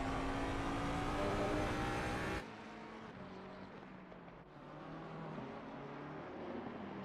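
GT3 race cars, including a McLaren, battle and overtake around Laguna Seca in a racing game, with a loud, close engine roar that suddenly drops to a quieter, more distant drone of several cars.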